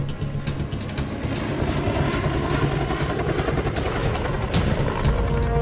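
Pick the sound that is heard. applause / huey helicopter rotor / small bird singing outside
huey helicopter rotor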